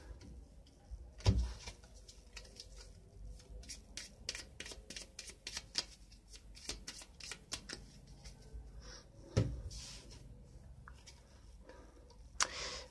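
Cards from the board game Onirim being shuffled up close, a rapid flurry of light riffling clicks and flicks with a couple of sharper taps, no talking.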